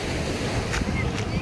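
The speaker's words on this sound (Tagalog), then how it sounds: "La, dagko balod." Big ocean waves wash onto the shore with a constant, loud roar of surf and wind buffeting the microphone, heard up close.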